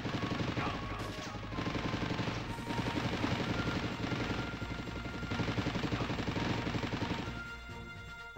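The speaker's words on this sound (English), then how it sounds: "Uh oh, what's that? It's a helicopter." A helicopter in the video game Army Men: Sarge's Heroes 2 thumps with a rapid, pulsing rotor chop, loud and sustained, mixed with bursts of gunfire and explosions in the game's battle.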